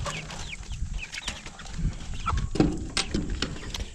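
Young Dominique chickens, a couple of roosters and hens, cluck and chirp in short scattered bursts on a farmstead, near and moderately loud, with outdoor rustling between calls and no speech.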